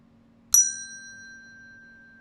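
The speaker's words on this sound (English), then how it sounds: "So we're going to ring the bell." A single mindfulness bell struck once during a group breathing exercise, giving a clear metallic ding that rings on and slowly fades over a faint steady hum.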